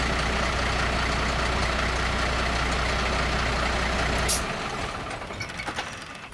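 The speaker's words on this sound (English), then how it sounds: "I'm waiting for the air to go up for the braking system" An HGV truck idling while its brake air pressure builds, a steady diesel rumble with continuous hiss, close and loud; a sharp air release bursts near the end as the engine sound drops away.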